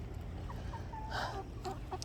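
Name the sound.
chickens clucking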